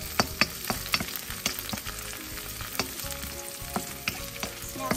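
Celery crackles in a pan with onion and garlic, a steady close sizzle punctuated by sharp scraping and stirring knocks, with no voices.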